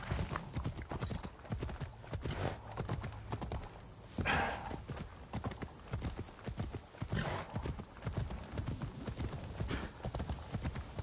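Horse hooves clip-clopping steadily in Assassin's Creed Shadows, a close, continuous gallop rhythm with occasional whinnies, running throughout under game sounds.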